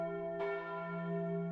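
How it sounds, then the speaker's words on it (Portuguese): A bell tone rings alone with steady sustained harmonics, a second strike joining partway through, faint and clear with no voices. "Então soaram os sinos dos jacintos."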